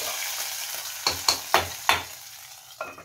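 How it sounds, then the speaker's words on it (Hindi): Ghee and cumin seeds sizzle in a tempering for daliya khichdi, a steady frying hiss broken by several sharp stirring knocks against the pan, heard close up with no talk. "अब इसमें हम तड़का लगा देते हैं"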